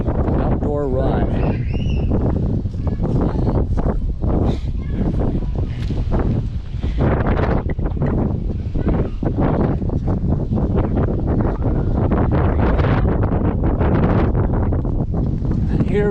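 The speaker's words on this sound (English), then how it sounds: "you might be able to hear the wind." Strong wind of about 25 mph with gusts to 37 mph buffeting the microphone during an outdoor run, a loud continuous roar and rumble, with someone talking over it.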